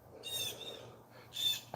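A hawk gives two faint, hoarse screeching calls about a second apart, sounding distant over a quiet background with no speech.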